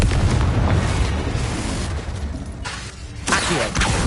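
A Confringo explosion spell goes off in a video game, a broad roaring boom that rumbles and decays over a few seconds, dipping briefly before a second surge of blast noise, loud and close with no talk.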